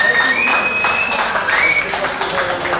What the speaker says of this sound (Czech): To si zaslouží veliký potlesk